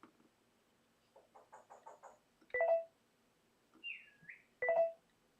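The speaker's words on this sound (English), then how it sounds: "You can hear my parrot whistling." A pet parrot whistles two bright, sharp notes a couple of seconds apart, with a short sliding whistle between them, amid faint clicks and chirps in a quiet room.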